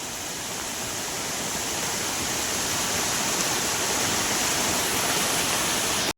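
Water from a dam rushing under pressure down a rocky village stream, a loud, unbroken roar of white noise heard up close that holds steady before cutting off abruptly.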